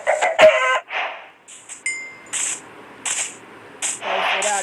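Chickens in the Minecraft video game cluck in a series of short, separate bursts spread across a few seconds, fairly close and clear, with brief quiet gaps and no talking.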